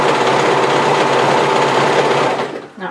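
An overlocker runs steadily, stitching the side seam of a wrap-front bodysuit toward the waist, a loud continuous high-pitched whir that slows and trails off near the end.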